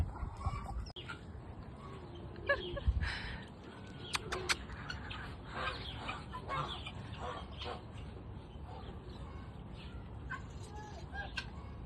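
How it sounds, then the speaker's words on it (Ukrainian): Chickens cluck and geese honk intermittently in a noisy yard at a horse club and zoo in Aktau, Kazakhstan, with people talking over the birds. "Курочки, по-моему. Это гуси."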